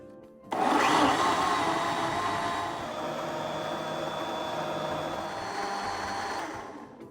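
A blender whirs loudly and steadily as it purees fresh corn kernels with hot boiled water, starting abruptly and running for several seconds in a dense, continuous roar that eases slightly toward the end.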